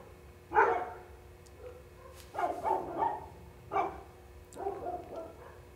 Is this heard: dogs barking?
yes